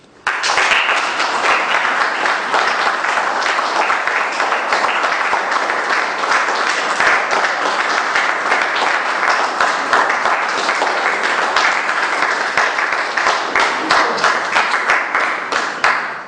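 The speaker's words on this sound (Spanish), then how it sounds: "Muchas gracias por sus aplausos." Audience applause following a book presentation on Argentina in the 1940s, a steady, dense clapping that fills the room loudly from start to finish without a break.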